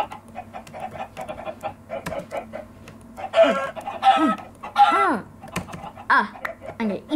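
Minecraft chickens clucking in short pitched bursts amid many placed birds, mixed with fast keyboard typing and a player talking over the top.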